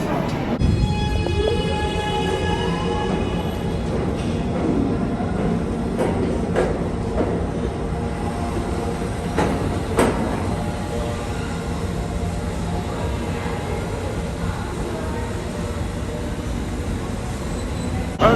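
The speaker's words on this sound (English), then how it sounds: "We're here now at the Rockefeller Center subway station." A loud, steady rumble of a subway train running through Rockefeller Center station in New York, with metallic screeching and clattering wheels, continuous throughout.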